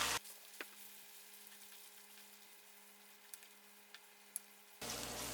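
Onions fry with ginger garlic paste in a pan, a faint, steady sizzle with a few small ticks and pops, preceded and followed by brief bursts of louder noise.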